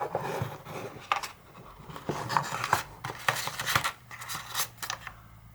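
Packaging handling while a Samsung Galaxy Z Fold3 5G box in Phantom Black is opened: repeated close scraping, rubbing and sliding of cardboard and plastic in short irregular bursts, with no talking.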